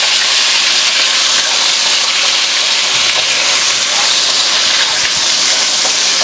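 Chopped garlic sautéing in a hot pan for stuffed peppers, a loud, continuous, close-up hissing sizzle with faint scrapes underneath and no pauses.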